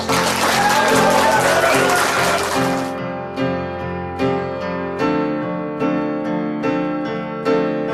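Wedding guests in a banquet hall clap for the arriving bride and groom, a dense burst of applause for about three seconds that gives way to music with clear, spaced piano-like notes.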